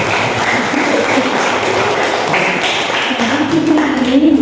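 A small group in a school classroom breaks into applause, loud close taps and claps that keep going steadily, with a voice briefly heard near the end.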